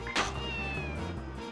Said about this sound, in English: Y'all hear that cat?